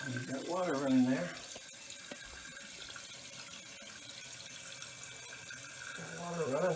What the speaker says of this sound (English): Got water running.